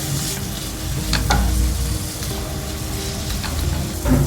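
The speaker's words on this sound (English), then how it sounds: "once the oil is hot enough, I'm going to toss in the sliced onions" Sliced onions sizzle and crackle steadily in hot oil in a pan for a North Indian gravy, with occasional stirring scrapes, close and continuous without talk.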